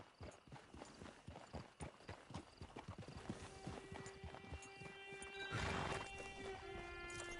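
Horse hooves in the video game Red Dead Redemption 2 clip-clop in a steady, close rhythm, then slow as the horse whinnies loudly near the end.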